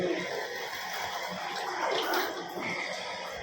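Water is poured into a drinking glass at home, a continuous close splashing, gurgling stream lasting a few seconds, with no talk over it.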